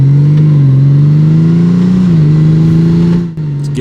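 A Honda Goldwing motorcycle engine revs with a loud, smooth, close drone. Its pitch swells and dips slightly before briefly dropping near the end.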